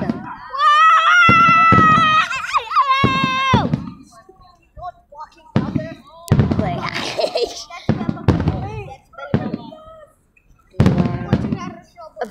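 Fireworks go off in a series of sharp bangs and crackles at a public display, with whistling tones early on, while children and adults shout and talk between the bursts.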